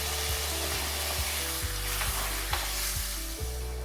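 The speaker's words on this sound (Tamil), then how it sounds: "பச்சை மிளகாய் ஒரு 2-3 நிமிஷம் வதங்கட்டுங்க." Green chillies sauté in a hot pan alongside carrot, peas and potato for mint coriander rice, a constant loud sizzle broken by regular soft knocks of stirring.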